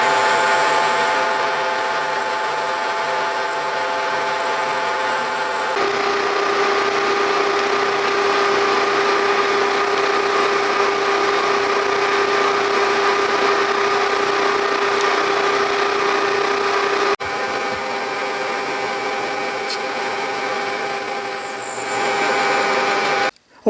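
Steady, loud machining whine from an Emco Unimat lathe fitted with a milling table, cutting continuously for over twenty seconds with a sustained high tone that shifts slightly partway through before spinning down at the end.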